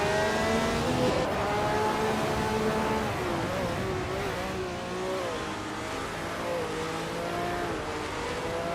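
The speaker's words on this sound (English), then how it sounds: "the race kicks off at Zandvoort with bot GC Swishman 33 on pole and a classic 1967 Brabham BT24" A field of race cars, among them a classic 1967 Brabham BT24, roars away from the start at Zandvoort in a racing video game, layered engines revving loud and continuous with shifting pitch as the pack accelerates.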